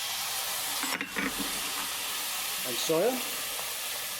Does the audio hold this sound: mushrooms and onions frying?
yes